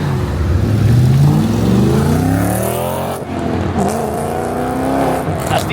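An Audi RS4 accelerates hard at a wild Miami street car meet, its engine revving up through rising pitches close by, loud and continuous with crowd noise around.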